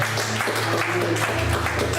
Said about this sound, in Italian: Dunque facciamogli un bel applauso.